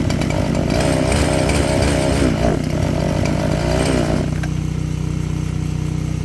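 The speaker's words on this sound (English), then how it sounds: "Then we'll go to that chainsaw." A chainsaw engine runs at a high, buzzing rev, then drops to a lower rough idle partway through; no talking.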